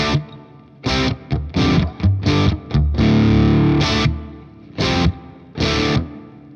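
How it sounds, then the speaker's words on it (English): Distorted electric guitar through a BOSS Space Echo tape echo with its spring reverb plays choppy bursts of chords and notes, each trailing into a washy, echoing reverb tail, with short gaps of near silence between phrases. "I can actually just choose to use the reverb from the Space Echo"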